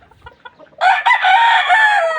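A gamecock kept for cockfighting crows once, loud and close: a short broken opening note followed by a long, strained, sustained crow lasting over a second, after some faint clucking and background noise.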